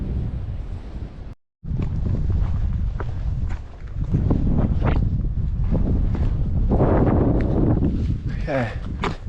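Strong wind buffets the microphone on an exposed mountain summit in the Wind River range, a loud continuous roar with gusts and rustling. A short full dropout breaks it early, and faint footsteps and handling noises sit under it.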